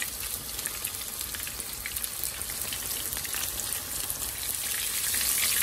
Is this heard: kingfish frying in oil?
yes